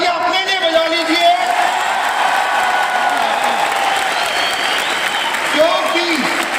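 A large crowd at an award function in a packed stadium claps in a dense, continuous roar of applause, with a voice speaking over it throughout.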